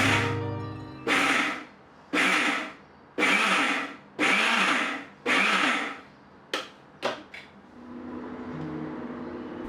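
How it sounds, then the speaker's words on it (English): A blender pulses rice in short bursts, six longer whirs followed by a few quick taps, loud and close, then a low hum afterward. "add to a blender and pulse it few times"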